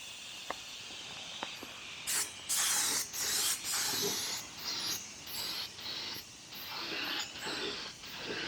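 Bursts of spray gun hiss lay coats of 2-pack paint on a 1979 Suzuki FZ50 front end part, repeated on-off passes of varying length with brief gaps and a couple of clicks.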